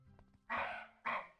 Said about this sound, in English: I heard him barking.